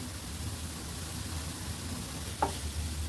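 Beetroot vegetable being stirred in a frying pan, a faint, soft hiss of gentle sizzling with one brief scrape of the spoon near the end, quiet and close.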